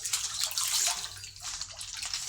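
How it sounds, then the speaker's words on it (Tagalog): Tap water pours steadily into a concrete catfish pond, a continuous splashing hiss with small gurgles, fairly close and alone. "Pwede ko nang isara itong gripo."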